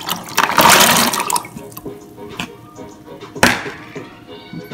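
Liquid from rice and peas cooking, poured into a pot in a kitchen, gives a loud splashing rush for about a second. A fainter trickle and drips follow, with a second brief splash near the end.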